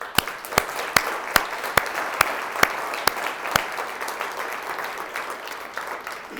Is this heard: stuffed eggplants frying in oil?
no